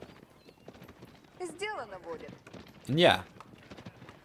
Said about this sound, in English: both players have just been going full horse archers over here